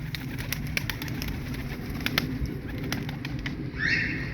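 Pigeon wings flap in a rapid clattering flutter close by as a smoke-colored pigeon lands, with soft cooing and a faint whistly call near the end.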